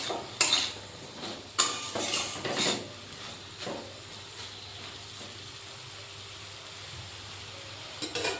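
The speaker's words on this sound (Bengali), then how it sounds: "তারপর মশলার সাথে ভালো করে মিশিয়ে নিতে হবে।" Okra being stirred with mustard paste and spices in a pan, with sharp metal spatula scrapes and clanks in bursts early on over a faint low sizzle, quieter later with a few final knocks.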